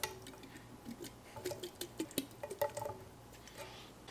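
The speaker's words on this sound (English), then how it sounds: "Just unceremoniously dump that meat in your pan." Canned venison chunks are dumped into a pan, giving a scatter of soft wet plops and light clattering taps spread irregularly across a few seconds, fairly quiet and close with no talking.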